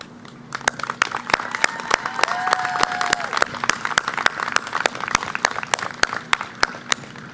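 A crowd at the Clovis Community College 2024 commencement applauds, with sharp, evenly spaced claps ringing out over a steady bed of cheering and a few rising whoops.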